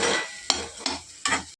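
Garam masala and other spices are stirred into an egg mixture in a frying pan. Three quick scraping strokes sound over a light sizzle, close and alone, with no voices.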